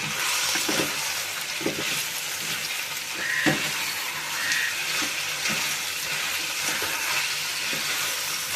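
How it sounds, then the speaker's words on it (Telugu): Carrots cooking in a pan for a village-style carrot and tomato masala curry are stirred, giving a continuous close sizzle broken by light scraping knocks from the spoon. "మన క్యారెట్ మగ్గిందో లేదో చూద్దామండి ఒకసారి తిప్పుకుందాం"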